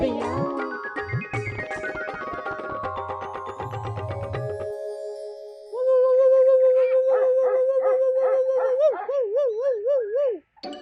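Men imitate a dog barking and howling, with a string of yips and yaps giving way to a long, wavering howl, loud and near, and voices overlapping throughout.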